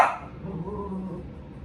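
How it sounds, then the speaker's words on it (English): Dogs bark outside, a burst of barking near the start followed by fainter, more distant barks and a low hum of background noise, with no talking. "when they make noise, the dogs make noise"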